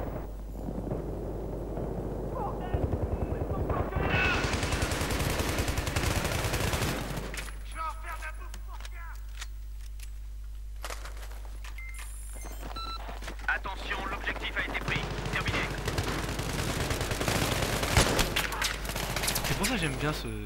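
Rifle fire in Battlefield 3 Close Quarters comes as loud bursts of shots with sharp cracks. A quieter stretch falls in the middle before heavy firing returns, with someone talking throughout.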